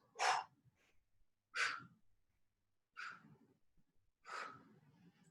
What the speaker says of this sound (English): Exhale as you extend your arms.